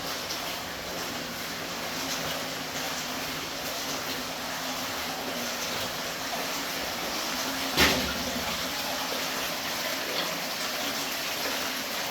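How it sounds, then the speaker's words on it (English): Water seeps and trickles steadily inside an abandoned mine close to collapse, a constant hiss-like wash with one brief sharp knock partway through. "Water infiltration here, or source water."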